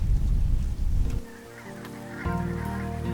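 Goose-like honking calls of waterbirds rise over a low rumble at the former Sorae salt pan, now a reedy wetland, repeating at moderate distance after an opening stretch of noise.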